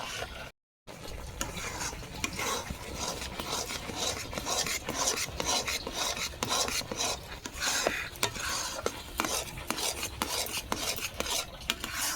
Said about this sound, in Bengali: এবার এটাকে এইভাবে নাড়তে হবে যাতে তলায় না বসে যায়